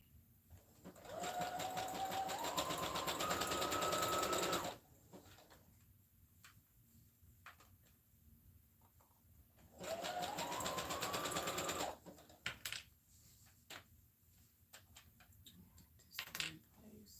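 A sewing machine stitches elastic in place with a fast, rapid whirring hum in two bursts of a few seconds each, rising slightly in pitch as it speeds up. Quiet clicks and handling noises fall between the bursts.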